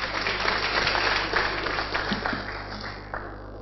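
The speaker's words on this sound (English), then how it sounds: "Please, another round of applause for him" A sustained round of applause for a commissioner at a colloquium, dense and steady from a large audience, tapering slightly toward the end.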